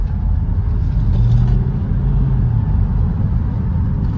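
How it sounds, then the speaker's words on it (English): Engine of a 2007 Mercedes ML 320 CDI diesel mid-size SUV pulling through first and second gear, a loud steady low rumble from inside the cabin with no talking. "And we'll give it a little throttle here. Let's downshift into first. We'll do second."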